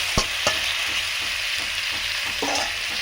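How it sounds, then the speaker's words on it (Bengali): Ridge gourd and potatoes frying in a pan, a steady close sizzle with a few sharp spatula scrapes and stirs at the start and near the end, with no voices. "আমি ঝিঙে এবং আলু ভালো করে ভেজে নিচ্ছি।"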